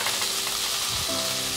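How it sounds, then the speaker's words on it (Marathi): Curry leaves roast in hot oil in a pan, making a loud, continuous close-up sizzle and crackle, with a faint steady tone joining near the end. "कढीपत्ता आपण भाजून घेतोय."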